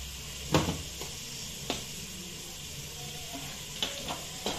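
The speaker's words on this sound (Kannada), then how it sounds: "ಇತ್ತೆ ನೀರುಳ್ಳಿ ಪಾಡೊಂದುಲ್ಲೆ ಒಂದು ಚೂರು ಫ್ರೈ ಆವಾಡು" Chopped onions fry in a little oil in a pan for a Tulu mackerel pulimunchi, producing a steady close sizzle with a few sharp pops and clicks.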